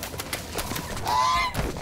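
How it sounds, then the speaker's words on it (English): A goose in the video game The Unfinished Swan gives one drawn-out honk, clear and fairly close, over faint ambient game sound. "Goose, I see you."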